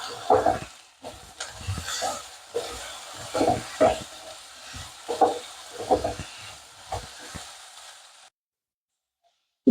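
Ivy gourd (dondakaya) tipped into hot oil in a pan, giving a series of close sizzling bursts and stirring scrapes in an irregular rhythm, each flaring then fading before the next.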